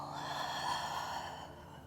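A steady, breathy exhale during a slow-flow yoga session, a soft airy rush held for about two seconds and fading gently at the end, close and alone with no talking.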